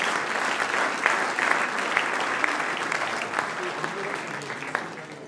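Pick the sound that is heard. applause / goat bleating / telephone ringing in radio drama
applause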